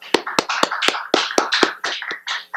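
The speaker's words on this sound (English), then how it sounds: "let's give him a warm round of applause" Applause for a speaker at a lecture on the Constitution: sharp, separate claps in a quick, even rhythm, close and clear, with no voices over them.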